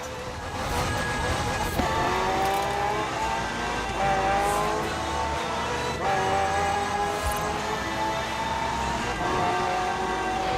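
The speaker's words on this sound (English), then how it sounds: "The car's blistering performance is delivered by a twin-turbo V8, supplemented by a McLaren ECU electric motor and instant power assist system." In the Forza Horizon 4 racing game, a McLaren hybrid twin-turbo V8 car accelerates hard through repeated rising gear sweeps, each climbing whine cut by a shift, loud and steady throughout.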